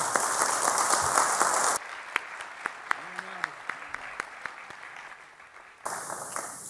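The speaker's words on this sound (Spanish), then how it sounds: "yo creo que se merece un gran aplauso por su labor" Audience applause after a tribute at a book and magazine presentation: a loud burst of clapping cuts off abruptly into scattered individual claps with a faint voice underneath, then the full applause returns.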